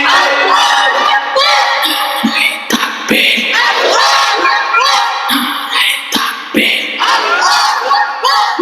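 A large crowd at a religious gathering shouts the takbir response in loud, repeated collective roars that rise and fall in waves, close and dominant throughout.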